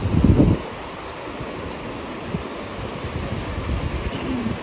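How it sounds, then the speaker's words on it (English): Ocean surf on a Bahamas shore breaking in a soft continuous wash, with wind buffeting the microphone and a louder gust at the very start; no one speaks. "Oh, the ocean."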